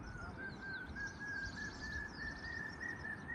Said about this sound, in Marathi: हा पक्षी कोणता आहे?